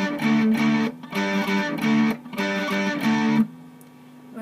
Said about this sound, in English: So we're going to play D5 and G5 again.